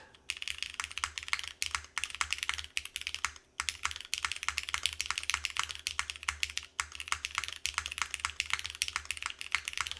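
Fast, continuous typing on a Mode SixtyFive mechanical keyboard with its keycaps removed, giving dense sharp clacks close up, with two short pauses.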